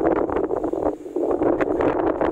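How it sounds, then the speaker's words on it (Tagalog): Gusty wind on a mountain top buffets the microphone in a steady, roaring rush with uneven surges and brief lulls, close and loud, with no talk. "So medyo mahangin dito sa taas ng bundok"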